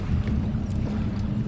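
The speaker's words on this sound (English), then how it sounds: "Just enough so that the engine is propelling itself forward." A boat engine idles low, just barely pushing the boat forward at a dock launch, a steady close rumble with wind noise over it and no talk.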